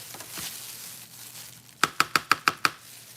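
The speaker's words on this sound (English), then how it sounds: "I'm gonna go ahead and chop these up" Jalapeno peppers are chopped on a cutting board with a knife, six crisp, evenly spaced chops in quick succession after a quiet stretch of faint background noise.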